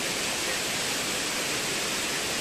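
Kilangil Falls waterfall roaring as a steady, dense broadband rush of falling water, loud and unbroken throughout.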